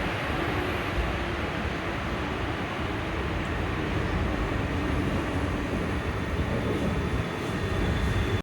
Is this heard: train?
yes